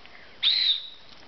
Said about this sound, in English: a whistle.